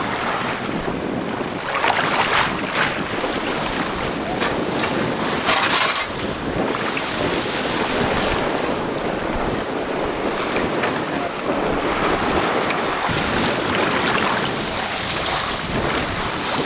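A Malagasy dhow, a wooden sailing boat under sail at sea off Belo sur Mer, with steady wind buffeting and waves washing against the hull, continuous and fairly loud.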